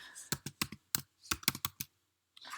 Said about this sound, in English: All right, start typing it in.